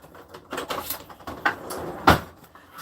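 A green kitchen drawer is pulled open to fetch a big knife, heard as a few close wooden knocks and sliding clatters, with a sharp bang near the end.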